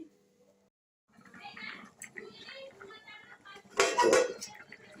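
A metal lid goes onto a cooking pot of yam and prawn curry, with a clatter of pot and utensil clinks and a louder knock near the end. Someone talks faintly in the kitchen.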